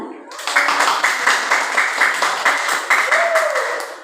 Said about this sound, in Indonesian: tepuk tangan mulia pisan